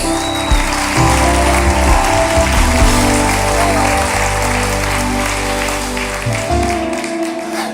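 A church congregation applauds during an evening sermon, a dense, steady wash of clapping that holds at full strength for several seconds over sustained low keyboard chords, fading slightly near the end.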